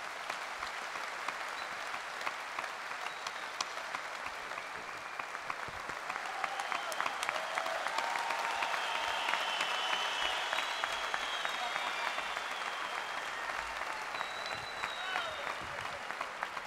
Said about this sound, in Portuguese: uma salva de palmas para o Vítor Espadinha